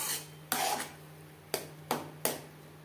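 Onion stirred in a pan with tomato, ginger and green chili paste for an egg curry: four separate scraping, rasping strokes of a utensil against the pan, close and fairly quiet, over a low steady hum.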